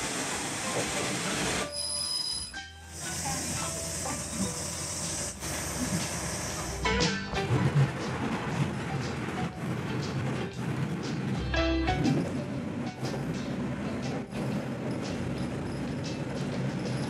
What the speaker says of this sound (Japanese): 浜坂行きの普通列車入線します